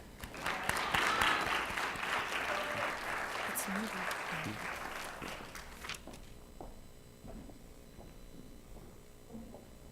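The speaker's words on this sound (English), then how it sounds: "Please give her a round of applause as she comes forward." Audience at a university oratorical contest applauds a contestant coming forward, a full burst of clapping for about six seconds that then thins to scattered claps, footsteps and quiet room noise.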